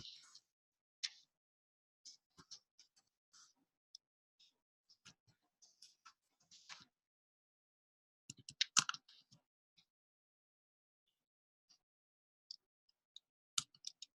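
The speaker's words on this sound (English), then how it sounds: "This is where it gets fun typing while you're watching." Quiet keystrokes on a computer keyboard come in short scattered bursts and single clicks with pauses between them, soft and close, with no talking.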